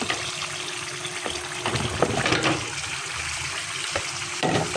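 Vegetables are tipped into a pot of yogurt mutton gravy, making wet splashing, sizzling and a few soft thuds as they land and settle, fairly loud and close with no talk.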